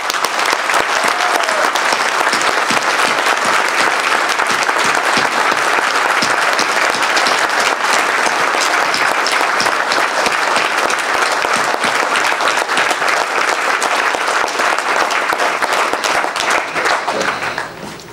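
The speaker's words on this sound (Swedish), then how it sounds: "idag ger vi henne ändå ytterligare en varm applåd från hjärtat" Long, warm applause from an audience at a political group meeting, dense and steady clapping sustained at full strength for many seconds before tapering off at the very end.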